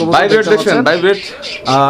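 A male shorting fancy pigeon coos in loud, close, repeated throaty phrases, one after another with only brief pauses.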